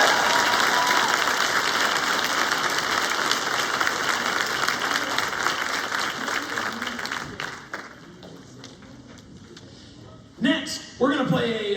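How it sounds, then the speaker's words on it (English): A school winter concert audience gives a loud round of applause that thins out over several seconds, and then a voice speaks briefly near the end. "One more round of applause for Mr. Tyler Kirby."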